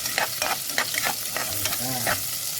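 Onions sautéing in a pan for pinapaitan, a steady broadband sizzle with repeated scraping stir strokes and a few clanks, close and moderately loud with no talking.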